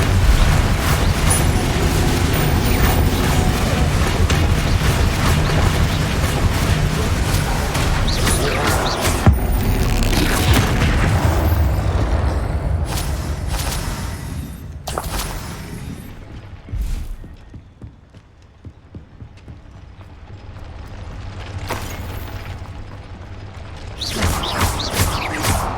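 Bombarda spell explosions from the Hogwarts Legacy video game, a dense, loud run of booming blasts and crashing debris over a constant game soundtrack, easing to quieter rumbles midway before swelling loud again at the end.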